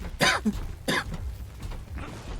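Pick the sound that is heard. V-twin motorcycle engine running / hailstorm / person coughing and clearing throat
person coughing and clearing throat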